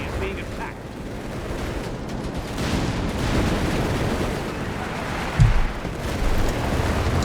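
Bazooka fire hits a Panzer IV in Company of Heroes 3 battle, dense dull blasts and rumbling gunfire under an ongoing rush of combat noise, with one sharper impact partway through.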